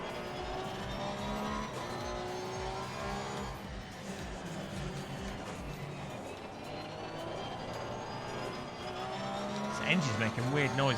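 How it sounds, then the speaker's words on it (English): A race car engine in Assetto Corsa Competizione drones and shifts pitch through gear changes, with a rough, uneven note, while someone talks over it. "Engine's making weird noises."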